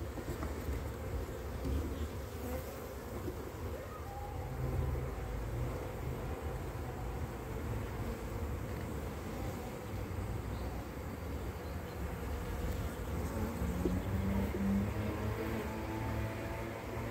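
Honeybee colony buzzing during a hive inspection in cold weather, a small weak swarm; a dense, continuous droning hum close by that holds steady throughout with no voices.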